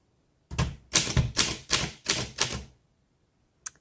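Keys of a 1939 Underwood Universal manual typewriter strike in a quick run of about six loud, close clacks, then a lone faint tap after a short pause.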